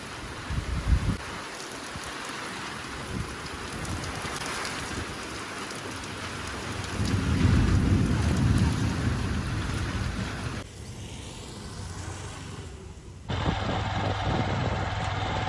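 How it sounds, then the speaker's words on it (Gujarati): Steady first monsoon rain pours down on surfaces, a dense even patter with low rumbling swells of thunder partway through, heard outdoors without talk. "આજે બપોર પછી મેઘરાજાની એન્ટ્રી થઈ ગઈ અને વાવણી લાયક વરસાદ થઈ ગયો."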